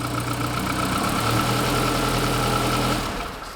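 A mini campervan engine idles nearby with a steady, rumbling drone and a faint whine from the torque converter, holding even before easing slightly at the end.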